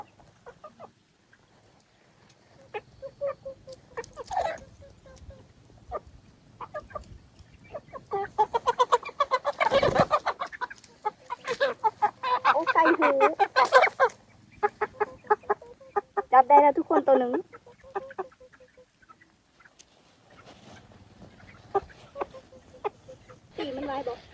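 Chickens cluck and squawk in bursts as people chase and catch them, some loud and close, while people talk and call out over the flock.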